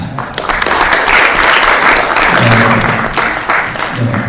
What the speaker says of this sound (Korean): 강의해 주신 전용 교수께 큰 박수를 부탁드리겠습니다